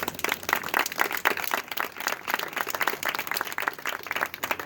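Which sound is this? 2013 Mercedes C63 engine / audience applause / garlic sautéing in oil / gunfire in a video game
audience applause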